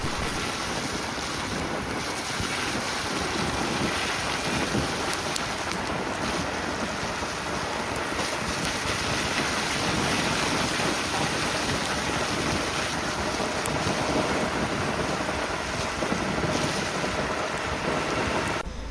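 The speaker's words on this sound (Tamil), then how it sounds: "மழையுமே ரொம்ப அடித்து ஊற்றிக்கிட்டு இருக்குங்க." Heavy rain pours down during a midnight drive through the forest of the Chinnar Wildlife area near the Kerala border. It makes a loud, steady broadband roar that holds unbroken for the whole stretch, with no voices.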